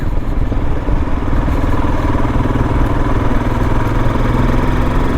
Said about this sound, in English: it's a great motorcycle